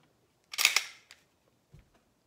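A pistol fitted with a Zev duty slide dry-fires, giving a sharp metallic snap followed by a small click of the sear resetting and a faint later tap, close and quiet with silence between.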